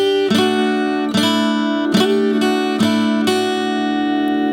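Acoustic guitar plays part two of a song: five ringing strummed chords about one second apart, each one sustaining into the next, with no voice.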